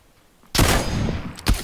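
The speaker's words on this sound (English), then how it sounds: "I think we're being shot from the crate area." Gunfire in PUBG: a sudden loud burst of shots after near-silence, a sustained crackling volley followed by another sharp report near the end.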